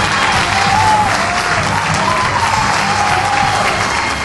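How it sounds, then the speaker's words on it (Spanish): Game show studio audience applauding loudly and steadily, a dense wash of clapping with crowd noise throughout, close and continuous with no break. "Muchas gracias, el aplauso para eso."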